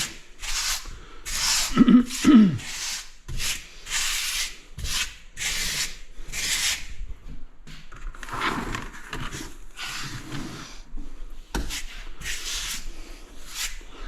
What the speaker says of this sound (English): Squeegee it off the best you can.